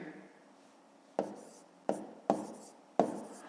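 Pen writing out a long division problem on paper, four sharp taps marking new strokes followed by soft scratching, close and quiet, with no speech.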